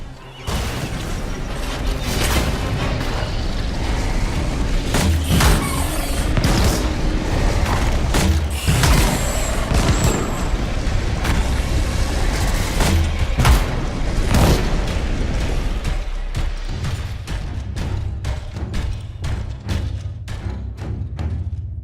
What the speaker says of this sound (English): Let's have Scylla in front with his flamethrower and have you support him with your grenade launcher.